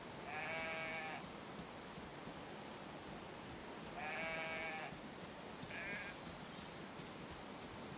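Sheep bleat in the video game Pacific Drive, two clear wavering calls several seconds apart and a shorter third one, set over a steady loud hiss of background noise.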